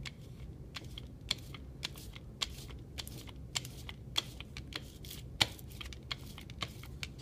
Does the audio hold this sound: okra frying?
no